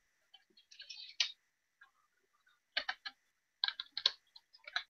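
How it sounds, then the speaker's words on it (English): Typing on a computer keyboard during a Halloween livestream at home: quick clusters of close, crisp key clicks separated by short pauses, with no talking. "Let's hope the keyboard works now."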